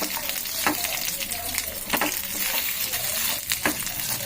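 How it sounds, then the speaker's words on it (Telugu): Peanuts frying in hot oil in a pan for a chutney, a soft steady sizzle with occasional scraping stirs close up, no talking. "ఇప్పుడు కొంచెం పల్లీలు వేగిన తర్వాత"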